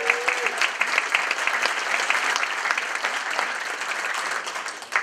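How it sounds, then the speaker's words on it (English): An audience at a general meeting breaks into steady, sustained applause, dense clapping filling the room for several seconds before it begins to taper off. "if we could just give her a round of applause."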